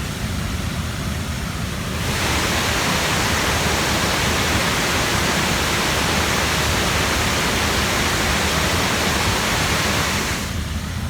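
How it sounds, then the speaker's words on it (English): A dense, continuous rush of water cascading through the Ladybower Reservoir overflow plug hole at Derwent Dam, swelling louder after the first couple of seconds and staying steady before easing slightly at the end. "The way it cascades through is amazing."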